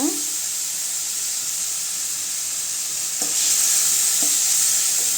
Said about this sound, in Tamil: இப்போ தக்காளி சேர்த்துக்கலாம் கொஞ்சமாக உப்பு சேர்த்துக்கலாங்க